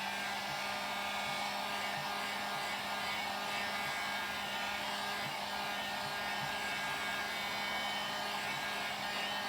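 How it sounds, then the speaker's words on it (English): A heat gun drying paint on a craft picture frame, blowing as a loud, steady hiss with an even motor hum held throughout, no voices. "I'm going to use my heat gun just to dry it just a little bit."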